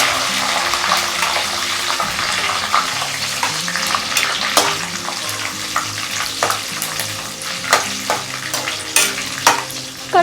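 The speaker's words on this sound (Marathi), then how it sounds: "कढीपत्ता जो आहे तो पण आपल्याला छान क्रिस्पी होस्तोपर्यंत असा तळून घ्यायचा आहे" Plenty of curry leaves fry in oil over a low flame for a crunchy chivda snack, giving a loud, continuous crackling sizzle with sharp pops and spoon knocks that grow busier toward the end.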